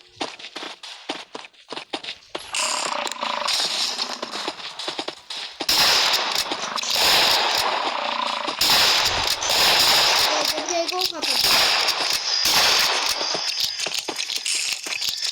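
Gunfire in the Roblox game Batı Yaklaşımı 2, a Western shooter: sharp close shots at the start, then a dense, continuous rattle of fire and clatter that stays loud throughout.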